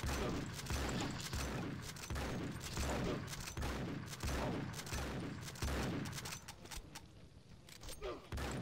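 A pump-action shotgun fires in the Mutant Factions video game, a rapid run of booming shots at a steady rhythm that thins out toward the end, fairly faint overall.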